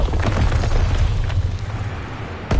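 A loud, rumbling grenade blast in the Call of Duty WWII game, a sustained low boom that carries through the clip and ends with a sharper burst near the end, with no voices.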